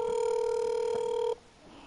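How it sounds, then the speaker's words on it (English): A telephone rings during a basketball video game session, a steady electronic ring tone sounding loudly and then cutting off abruptly partway through. "Answer the phone."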